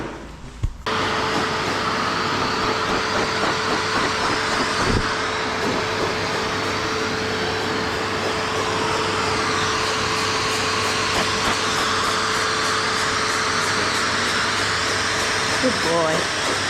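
A pet hair dryer fluff-dries a Cockapoo with a steady, loud, close whir and a constant hum that runs unbroken for the whole stretch after a brief quiet start.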